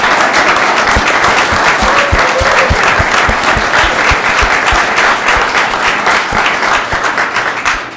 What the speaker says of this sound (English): Let's give another round of applause for Meredith